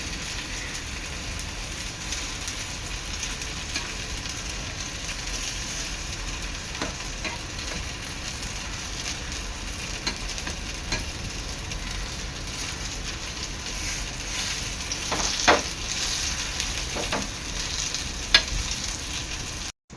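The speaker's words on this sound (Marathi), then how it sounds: "ह्या साईडने सुद्धा खरपूस रंग येईपर्यंत तळून घेणार आहे" Onion fritters (kanda vadi) shallow-fried in hot oil until golden on both sides, giving a steady close dense sizzle with a few faint pops and no talking.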